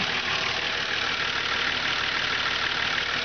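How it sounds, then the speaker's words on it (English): A 1995 Nissan UD1400 tow truck engine idles steadily with an even, rumbling drone that never changes pitch, loud and close, with no voices. "You can see the motor there sitting, purring, very nice and flat."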